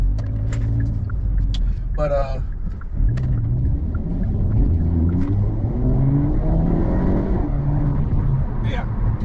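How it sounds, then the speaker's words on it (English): Hyundai Elantra N exhaust droning while driving, a low engine rumble with rising and falling tones as it accelerates and shifts, heard from inside the cabin with a voice talking over it. "I don't know how well you guys can hear that exhaust, but I still love this exhaust, man."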